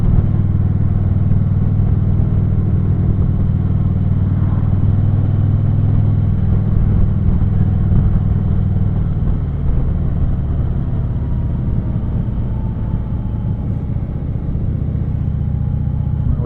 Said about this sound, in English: They always have to rev the engines.